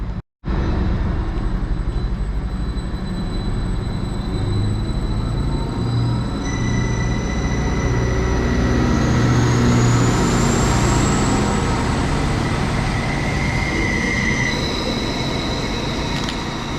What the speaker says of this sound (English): There goes 231-004. That sounds so good going out.